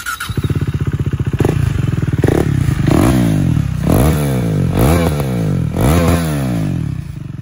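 A KTM Duke 390 single-cylinder motorcycle engine chugs at idle, then revs up several times in loud rising bursts before settling back, close by.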